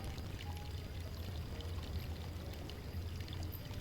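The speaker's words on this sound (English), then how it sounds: "I did need to pour water on that." Water pours steadily from a bottle in the video game Foolish Mortals, a soft, continuous splashing stream lasting a few seconds with no talking.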